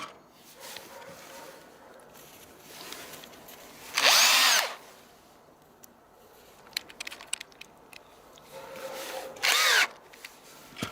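An electric drill with a 3.5 mm bit bores into a coconut shell in two short, loud whirring bursts, separated by quieter handling and scraping noises.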